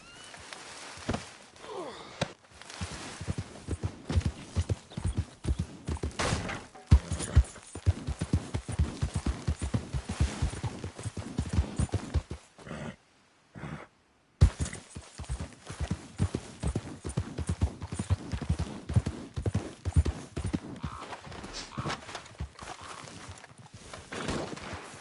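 Horse hooves clip-clop steadily and close by for a long stretch, broken by a brief silent pause midway before the hoofbeats resume.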